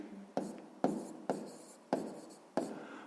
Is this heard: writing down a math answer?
yes